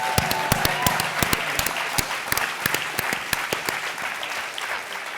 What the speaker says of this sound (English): I'd like all the women in the room to applaud